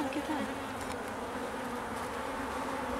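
A steady, dense hum of many honey bees buzzing together at an open backyard hive, continuous and close, with no voices.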